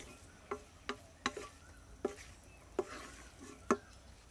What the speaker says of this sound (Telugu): ఇదంతా 4-5 నిమిషాలు కలుపుకుంటే అయిపోతుందండి